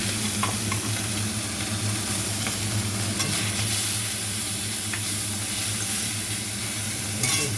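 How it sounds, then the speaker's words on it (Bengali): Fish frying in a small amount of oil, a steady close sizzle with soft stirring and scraping throughout, no voices. "এখন আমি মাছ ভাজছি, দেখছো না?"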